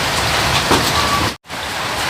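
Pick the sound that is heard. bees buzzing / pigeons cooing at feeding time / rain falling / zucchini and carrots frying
rain falling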